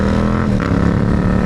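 Loud, steady engine drone from a Yamaha MT motorcycle, close by and continuous with a slight shift midway, on a bike with a broken throttle tube.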